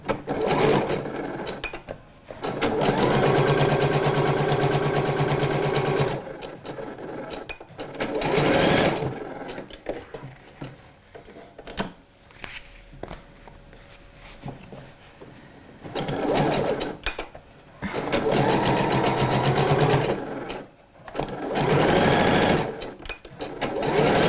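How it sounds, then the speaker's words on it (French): A sewing machine stitches a trouser seam 1 cm from the edge in bursts of steady whirring, several runs of a few seconds each separated by quieter pauses with handling noises. "Et donc à la machine, maintenant, on va venir assembler ce côté à 1 cm du bord"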